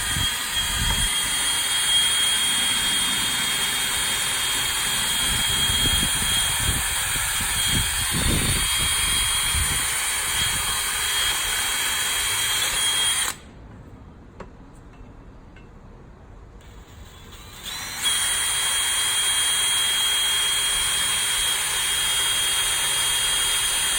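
A power drill bores a hole into a round metal pipe for a hammock stand, a steady loud whine with some rattling bursts early on, briefly cutting out mid-way before running again.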